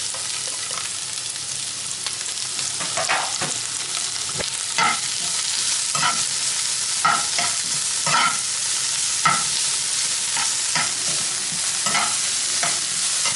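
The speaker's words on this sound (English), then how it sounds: "So there we have the chili and garlic and the sweet peppers. They're the really long ones. And yeah, just fry those off for a little bit." Chili, garlic and long sweet peppers fry in a hot pan with a steady close sizzle, broken by repeated scraping strokes of a utensil stirring them around, and no one speaks.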